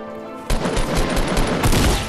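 Sudden burst of shotgun fire in Fortnite Battle Royale, several rapid loud blasts in quick succession after a brief quieter moment, close and harsh.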